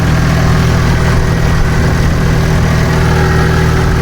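A tractor with its tyres sunk in flooded field water during heavy rain idles steadily and loudly, a constant low rumble with no change in pace and no voices.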